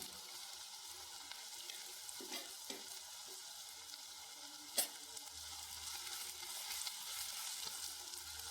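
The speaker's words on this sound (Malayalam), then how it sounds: "ഇനി നമുക്ക് ഇഞ്ചി വെളുത്തുള്ളി ക്യാപ്സിക്കം തക്കാളി കെട്ടുകൊടുക്കാം" Ginger, garlic, capsicum and tomato fry in a pan for macaroni, a soft steady sizzle with occasional stirring scrapes and one sharp clack midway, heard close and alone.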